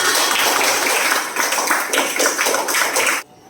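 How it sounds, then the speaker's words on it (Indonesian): A classroom of pupils applauds together, a dense sustained burst of many hands clapping at close range that stops abruptly near the end. "tepuk tangan untuk kita semua"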